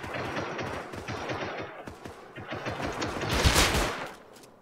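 Rapid gunfire rattles in the survival video game Rust, with dense automatic bursts of sharp cracks growing louder toward a heavy blast near the end.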